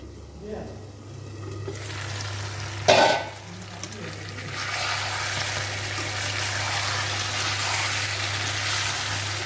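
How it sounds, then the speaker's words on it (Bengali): Meat frying and being stirred in a pan in a home kitchen: a steady, loud sizzling hiss throughout, with a sharp scraping clank of the spoon against the pan near the start. "দেখো আমি এখন মাংস রান্না করতেছি।"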